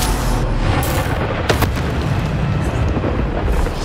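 A Bombarda spell explodes in Hogwarts Legacy, a heavy rumbling blast with a sharp crack in the middle, loud and close over a constant noisy background.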